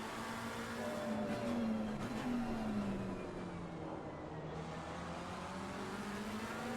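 A McLaren race car drives in a 6-hour endurance race at Misano, a steady engine drone whose pitch dips and rises as it runs through a corner, heard at a moderate, even level.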